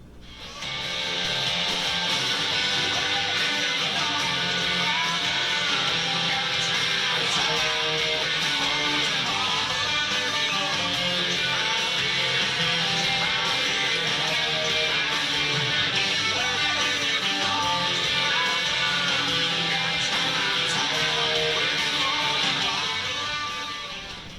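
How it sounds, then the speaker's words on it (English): An overdriven electric guitar plays a song, a dense, steady distorted chord progression at a constant loud level for the whole stretch, with no talking. "and with the actual recording with overdrive, it'll sound like this."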